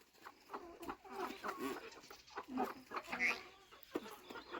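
Chickens cluck softly in a village yard in rural Maharashtra, a scatter of faint, irregular clucks and calls close by, with a little murmured talk.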